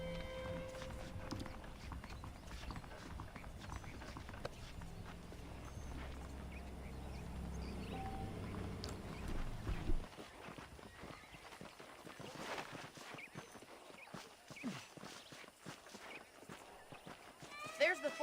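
Horse hooves clip-clopping in the Western video game Red Dead Redemption, a steady walking rhythm under game music and talk, shifting to a sparser, quieter scene after the midpoint.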